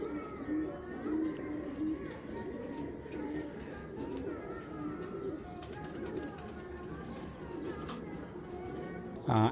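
A racing pigeon of a foreign bloodline coos in soft, repeated low calls, close by, over a constant background murmur with voices around.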